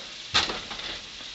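Hedgehog mushrooms sizzle faintly in an iron skillet, opening with a quick sharp hiss as they hit the pan, then dropping to a quiet steady fizz.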